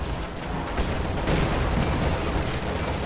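Sustained .30 cal machine gun fire from paratroopers in a World War II strategy game, a continuous dense rattle of bursts mixed with booming battle noise, loud and unbroken.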